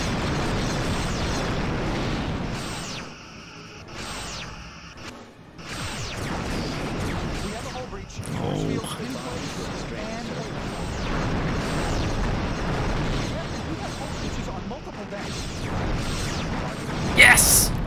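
Starship explosions in the space combat game Star Trek: Bridge Commander, with the Enterprise-E fighting Klingon K'vort ships. Booming blasts and crashes rumble through a dense, continuous battle din, with a sharp burst near the end.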